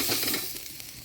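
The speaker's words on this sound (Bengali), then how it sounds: "ঢাকা দিয়ে আলু ফুলকপিটা ভালো করে ভেজে নিলাম" Potato and cauliflower sizzle and fry in a pan, a steady close hiss with faint crackles and soft stirring scrapes, no voices.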